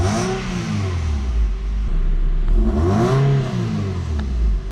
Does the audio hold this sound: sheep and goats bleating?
no